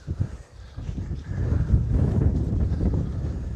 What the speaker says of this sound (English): It's nice to be out, but couldn't have picked a windier day, really, could we?